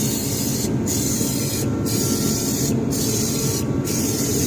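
Spray foam insulation hisses from a can inside a shop in a loud, steady broadband spray. It is broken by four brief, evenly spaced pauses where the nozzle lets off.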